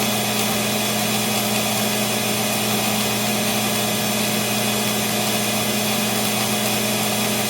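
Old AC electric arc welder, a buzz box set to 146 amps, held in a steady, dense crackling hum throughout with constant loudness and no pauses.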